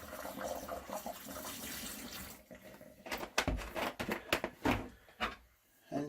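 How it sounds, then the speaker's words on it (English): Liquid antifreeze is poured into a sink drain to fill the P-trap while winterizing a water system, a quiet gurgling pour followed by a few faint sloshes and splashes. "put about 12 ounces of antifreeze in the one side, and then it'll fill up the P-trap"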